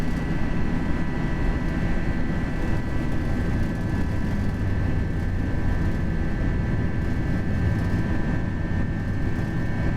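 FSLabs A320 jet engines in a flight simulator, a steady loud broadband roar with a thin high whine on top, holding constant throughout with no voices.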